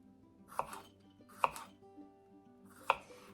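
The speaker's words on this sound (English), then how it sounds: "We want to slice our garlic, cut the ends off, cut any bad spots off. We want to slice it and slightly crush it." A kitchen knife slices garlic cloves for homemade garlic cough syrup, landing three crisp, separate chops on a cutting board at roughly even intervals. The cuts are close and clear, with no talking.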